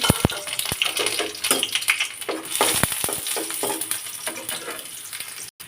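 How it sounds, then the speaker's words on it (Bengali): Chopped onions fry in a pan on a stove, a steady close sizzle running throughout with repeated sharp clicks and scrapes of stirring, no talk over it. "এখন রান্না করার জন্য চুলায় চলে এসেছি পেঁয়াজটাকে ভাজি করে নিতে হবে"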